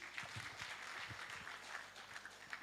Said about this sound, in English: Give her a clap, please.